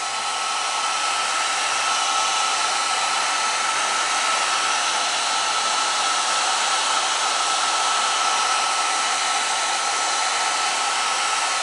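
A heat tool blows a constant, loud, breathy roar while drying paint, running unbroken from start to finish with no voices.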